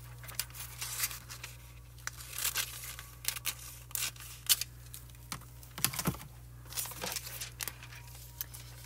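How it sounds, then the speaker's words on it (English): Foil is cut for a foiling craft project, heard as quiet, close, irregular clicks, snips and crinkles over a faint steady background hum, without any talking. "Going to cut a little piece of our foil to go over."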